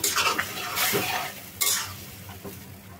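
Mixed vegetables are stirred in a frying pan, with loud scraping strokes of a spoon against the metal recurring every second or so over a steady background sizzle, close by and without talk.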